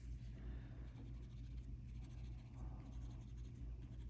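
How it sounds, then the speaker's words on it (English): Graphite pencil shading on paper for a Zentangle drawing, a steady soft scratching that runs continuously at close range over a low background rumble. "So I can put a little bit of graphite on each side of that."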